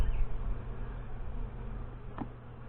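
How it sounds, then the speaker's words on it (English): Honey bees drone low and steady inside an open hive during an inspection, a soft continuous buzz fading slightly toward the end, with a brief faint rustle near the close. "There are a lot of bees down in here."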